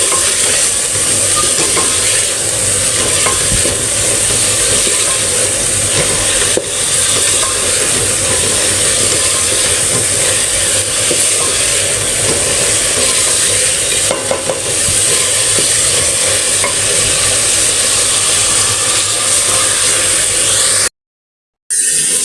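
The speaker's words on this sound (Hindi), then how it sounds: "अब हम इसमें मटर भी डाल देंगे साथ ही, मटर भी हमारी गल जाए।" Minced meat (keema) and peas frying in a pan, giving a loud, continuous sizzle with scraping stirring noises throughout and a brief dropout near the end.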